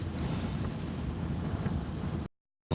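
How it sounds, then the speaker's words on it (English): Strong wind blows outdoors, a steady broadband roar buffeting the microphone for about two seconds. It cuts out abruptly into near silence, then gusts back in at the end. "You can hear the wind?"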